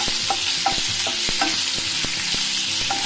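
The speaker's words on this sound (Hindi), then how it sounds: "अब ये काजू है। हल्का सा पिंकिश होने तक अपन सौटे करेंगे इसको।" Cashews with chopped ginger and green chili sautéing in a hot pan, a steady sizzle broken by repeated sharp clicks and scrapes of a spoon stirring, close and continuous with no talking.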